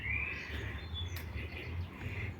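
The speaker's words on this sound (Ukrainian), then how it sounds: "І безкінечний спів пташок" Birds sing and chirp continuously along a quiet residential street of private houses with flowers in Kraków, the trills fairly close over a low steady hum of background noise.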